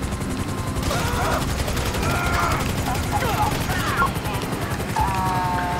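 Rapid gunfire bursts from the video game Grand Theft Auto V, next-gen version, crackling almost continuously under a dense layer of game action and excited player talk.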